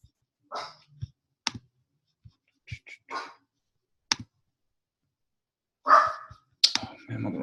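A pet dog barks excitedly in short, sharp bursts spread across several seconds, near and fairly loud, with quiet gaps between barks during an online study review session.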